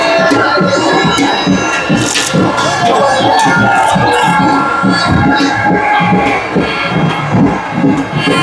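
Villagers roar and cheer in a dense, loud crowd at the Aai Raibadevi palanquin festival, with the Khandoba procession staff arriving, voices and commotion blending into a continuous din.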